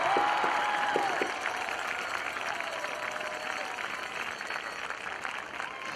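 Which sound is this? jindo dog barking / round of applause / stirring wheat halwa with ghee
round of applause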